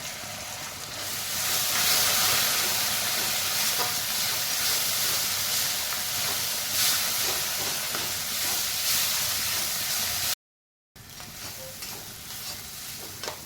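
A ground paste of cumin, coriander and dried red chilli sizzles and spits steadily in hot oil in a pan, with occasional stirring scrapes. The frying is loud and close throughout, breaks off briefly near the end, then resumes.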